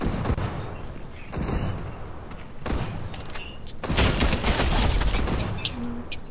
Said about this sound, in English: oh, so I hear gunshots.